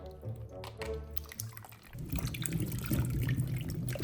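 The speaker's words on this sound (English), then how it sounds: "We're gonna use that to wash lemon and mandarin." Lemons and mandarins scrubbed and rinsed in a basin of water, giving steady close sloshing and splashing with drips that grow louder and busier in the second half.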